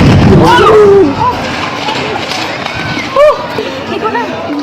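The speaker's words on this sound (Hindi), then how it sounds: "एक बार फिर से आप देखिए और उस धमाके की आवाज सुनिए, बहुत भयानक" An explosion captured on a mobile phone among students, heard as loud, harsh bursts with crowd noise and frightened voices, closer booms near the start and again around the third second.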